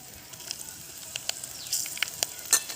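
Curry leaves crackle and sizzle as they hit hot oil while cooking a banana stem koottu, a steady soft fry with sharp pops building toward the end, no voices.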